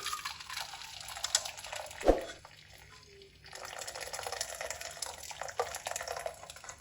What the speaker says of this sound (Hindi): अब यहाँ पे मैंने छन्नी ली है। बिस्मिल्लाहिर्रहमानिर्रहीम। अब ये पानी हम छान लेंगे।